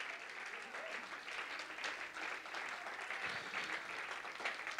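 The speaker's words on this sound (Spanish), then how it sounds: "Denle un fuerte aplauso al que vive y reina por los siglos de los siglos." A church congregation claps at a worship service, sustained even applause filling the room at moderate distance with no break.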